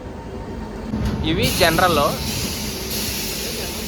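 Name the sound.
train arriving at platform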